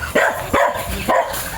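Dogs bark in a rural countryside setting: three loud, close, sharp barks in quick succession with no voices.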